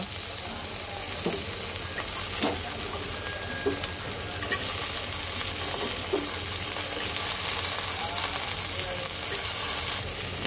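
Steady, loud sizzling of potato, eggplant and bitter gourd frying in a pan, with occasional scraping clicks of stirring throughout, no voices.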